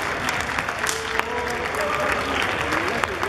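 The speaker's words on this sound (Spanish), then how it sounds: "fuerte el aplauso" Applause from an audience at a spring fair event in Sierra, a continuous even patter of clapping, moderately loud but somewhat distant, with faint murmuring underneath.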